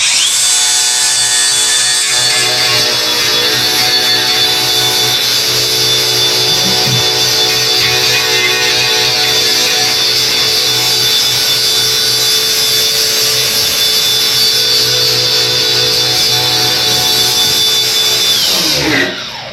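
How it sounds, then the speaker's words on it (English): A power grinder strips paint from a metal tractor frame, a loud, steady high whine that runs unbroken for nearly twenty seconds before spinning down, with no talk. "I'm going to grind this paint away."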